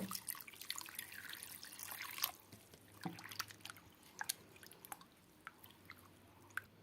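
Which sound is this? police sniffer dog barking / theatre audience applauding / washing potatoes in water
washing potatoes in water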